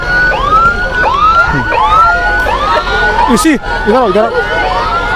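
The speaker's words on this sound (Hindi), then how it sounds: "देखिए ये एम्बुलेंस है, इसी एम्बुलेंस से इधर इसी एम्बुलेंस से" A loud wailing siren sweeps up and down repeatedly, close by, with a second siren tone overlapping and street noise underneath.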